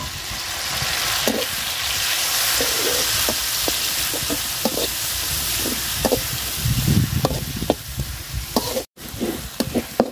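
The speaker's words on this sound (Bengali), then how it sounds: "রসুনটা সুন্দর করে ভাজা নিছি" Garlic paste fries in a pan with onion and chili, producing a steady close sizzle with intermittent stirring scrapes and clinks that become more frequent toward the end.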